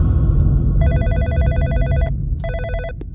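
A telephone rings inside an office: two bursts of fast electronic trilling ring close and loud, a longer one followed by a shorter one, over a low background hum.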